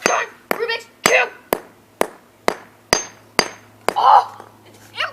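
A hammer smashes a Rubik's Cube with about ten sharp, evenly spaced blows, each a loud crack with a plastic clatter, and a voice breaks in briefly between strikes near the end.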